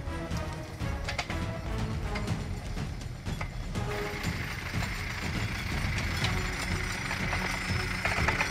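An Ursus C360 tractor working in forestry timber transport runs with a steady engine drone and some irregular knocking and clattering, moderately distant and fairly quiet, with no talk.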